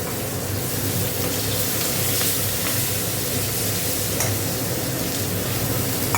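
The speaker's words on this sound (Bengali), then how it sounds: "পেঁয়াজটা ভেজে নিই।" Onions fry in a pan with a dense, constant sizzle, a few faint stirring scrapes coming through the steady hiss, with no voices.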